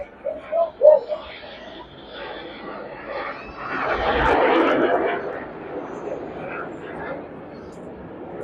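Display jets perform at the 2022 Blackpool air show, their engine roar swelling into a loud, sustained pass midway and then fading, while a commentator talks over it.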